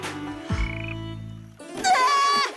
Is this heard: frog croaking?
yes